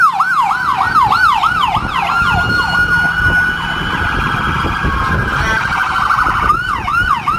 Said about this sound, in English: So this is the ambulance.